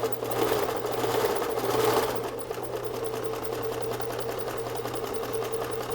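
Sewing machine running steadily, stitching a regular zipper with flaps, a continuous close mechanical whir with a slight shift in tone partway through, no voices.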